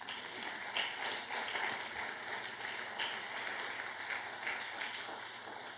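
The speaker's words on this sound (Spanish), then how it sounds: "Denle un aplauso al Señor." A church congregation applauds during a Spanish-language sermon, a steady, fairly soft wash of clapping that continues evenly for the whole stretch without any clear voices on top.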